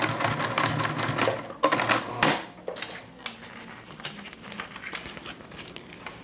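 A sewing machine stitches over a zipper on a toiletry bag in short, uneven bursts with a few sharp clacks and pauses, as if working slowly over a thick spot.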